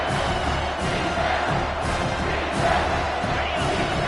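A football stadium crowd cheering, a loud continuous roar of many voices swelling and surging throughout.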